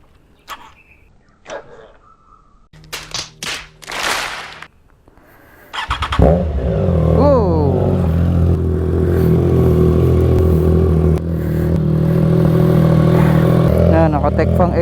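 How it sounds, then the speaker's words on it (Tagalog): After a few clicks and clunks, a Triumph Trident 660 motorcycle with an aftermarket exhaust fires up loudly and revs several times before settling into a steady rumbling idle. "painit pala muna tayo ng motor"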